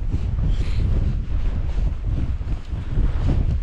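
Strong wind roars and buffets a new four-season tent during a solo night wild camp on Windy Gyle in Northumberland, a loud, continuous rumbling gusting against the microphone.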